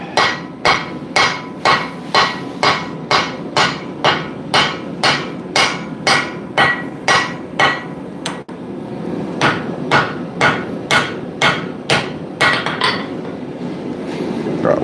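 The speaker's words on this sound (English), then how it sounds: "Drop forged again." Steady, rhythmic hammer blows on hot steel ring out as a Viking cross peen hammer head is forged at a blacksmith's anvil, about two strikes per second, close and loud, with a brief pause midway and no talking.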